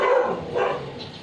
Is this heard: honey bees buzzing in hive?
no